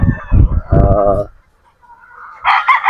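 Sweater Boston gamefowl in a pen cluck and call loudly and close, several rapid bursts followed by a pause and another short squawking call.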